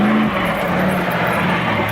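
Deep, steady growl from a 351 Windsor V8 in the FunTruck, running with open exhaust while cruising, a continuous close rumble with a low tone that shifts slightly in pitch.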